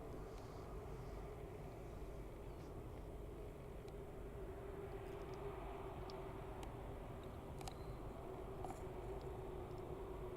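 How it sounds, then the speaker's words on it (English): Engines of a Beechcraft King Air B200 turboprop at an airport keep up a steady, moderately distant drone with a faint tonal hum, continuous and without talk. "B200, operated by Dragonfly Executive, and it's coming from London Biggin Hill Airport."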